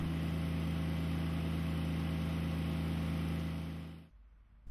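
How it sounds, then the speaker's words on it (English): A 16-kilowatt water-cooled diesel engine on an SMG CareMax CM2 machine runs at a loud, steady idle with a low, even hum, then cuts off abruptly near the end. "The CareMax is equipped with a 16 kilowatt water-cooled diesel engine."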